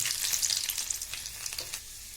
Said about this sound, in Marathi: आपलं तेल आता छान तापलेलं आहे त्यामध्ये आपण आधी लसूण घालायचं